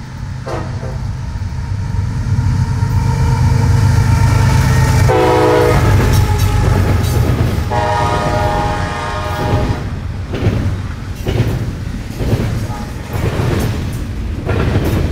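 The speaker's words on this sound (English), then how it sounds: "Crossing the CSX Diamond, banging out a pattern down there." A freight train rumbles loud and close across the CSX diamond crossing, its wheels banging out a rhythmic clatter over the crossing rails throughout, with a horn-like tonal sound near the middle.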